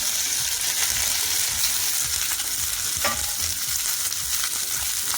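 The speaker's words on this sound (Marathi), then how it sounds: "भेंडी फ्राय करून घ्यायची." Okra frying in a pan for masala bhindi gives off a steady, close hiss and crackle of hot oil, broken by occasional scraping stirs.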